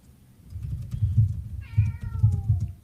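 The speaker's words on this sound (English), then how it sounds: "I've got my cat here" A cat meowing close by, one drawn-out falling meow over a low rumbling background with a few soft knocks.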